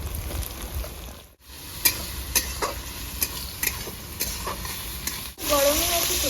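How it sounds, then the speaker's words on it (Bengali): Onion, garlic cloves, ginger and green chili fry in a pan, giving a steady close sizzle with scattered ticks and pops and a scrape of stirring near the end. "পেঁয়াজটা যাতে তাড়াতাড়ি ভেজে যায়"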